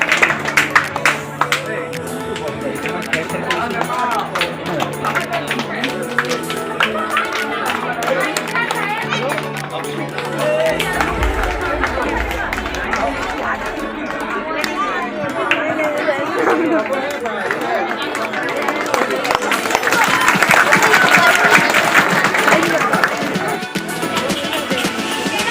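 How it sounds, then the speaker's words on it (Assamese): Applause at a school sports week event rises from a crowd of pupils amid constant chatter and someone talking over a loudspeaker, with clapping that comes and goes in bursts across the noisy outdoor scene. "তোমালোকে হাত চাপৰি দিবা দেই হাত চাপৰি"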